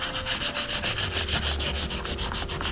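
Folded sandpaper rubbed back and forth over a car door handle during restoration, quick close rhythmic scratching strokes, about a dozen in a steady pulse with nothing else audible.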